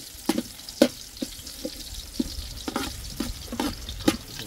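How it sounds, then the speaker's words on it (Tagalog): Ginger frying in a pan, a soft continuous sizzle broken by a series of sharp clacks and scrapes from a utensil stirring the pan. "Lutuin natin yung ating luya para lasang lasa."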